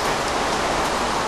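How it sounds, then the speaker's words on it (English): Rain falls in Minecraft as a dense, loud, even hiss with no gaps or variation. "And it's starting to rain, of course."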